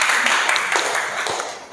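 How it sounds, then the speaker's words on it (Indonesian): A classroom audience of students and teachers applauds, a dense, steady patter of clapping hands with some louder claps near the end, fairly close. "Beri tepuk tangan sekali lagi ya."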